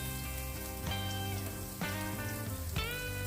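Finely chopped medium onion fries in a pan with a cinnamon stick and cloves for a creamy cashew chicken, a steady close sizzle with crackly pops throughout and no speech.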